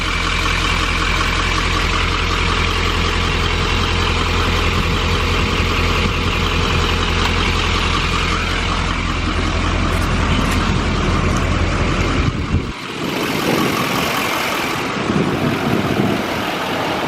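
A 2015 GMC Sierra Denali 3500HD salvage truck idles steadily and loudly up close with a deep, even rumble, then the engine shuts off after about twelve seconds, leaving a quieter background.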